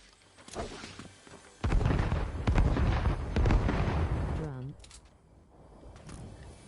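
Explosions from bombing a building in the video game Fortnite roar as a dense, loud stretch of booming, crackling blasts lasting several seconds, then trail off into quieter rumbling.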